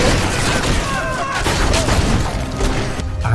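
Loud, chaotic gunfire from many weapons crackles throughout, layered with dramatic background sound and a voice.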